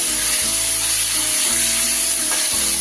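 Paneer pieces fry in oil and are gently turned, giving a loud, even sizzle with a steady low hum underneath, close and uninterrupted, no voices.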